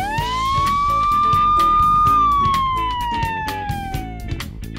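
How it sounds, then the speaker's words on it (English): A fire truck siren in a cartoon rises into a loud, sustained wail, holds, then slowly falls away, with a rhythmic pulsing beat running underneath. "And these are sirens."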